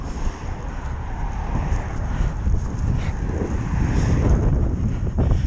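A headwind buffets the microphone on a cycling ride, a dense rumbling roar that gusts unevenly throughout with no voices.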